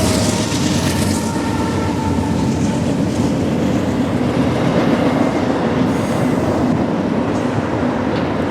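A freight train on the Bayard and River Line rolls past close by with a loud, steady rumble and rattling wagons, the roar holding constant throughout.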